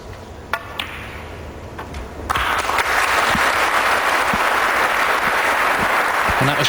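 A snooker crowd at the 2008 World Series in Warsaw, Poland, bursts into loud, sustained applause after a few isolated claps, the dense clapping continuing steadily to the end.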